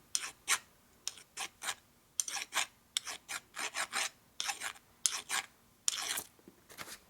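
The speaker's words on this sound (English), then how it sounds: "we're going to start with just using a semi-fine file. We're just going to radius across the edge here a little bit." A semi-fine metal file is drawn across the edge of a Harley Shovelhead motor part in about fifteen evenly spaced rasping strokes, each a short bright scrape, close up and alone.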